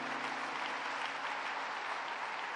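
A church congregation applauds Jesus Christ at a worship service, a steady, even burst of clapping from a crowd, heard from a moderate distance and fairly quiet.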